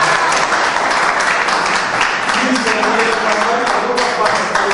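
Dense, continuous applause from a crowd at an interview with football coach Rastelli, loud and sustained throughout with a voice faintly underneath.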